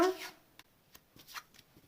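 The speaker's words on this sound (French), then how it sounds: "je vais les aligner dans ce sens-là, puisque je vais mettre d'autres cartes" Tarot cards being shuffled and laid out, with a brief riffle at the start followed by a few soft, separate slaps and slides as cards are placed down, close and quiet.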